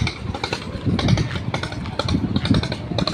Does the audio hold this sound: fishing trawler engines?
yes